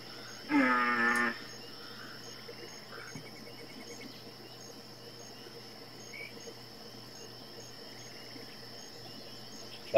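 A steady night chorus of frogs and crickets in the hunting game The Hunter Classic: continuous high insect trilling with low croaks underneath, plus one brief louder call near the start.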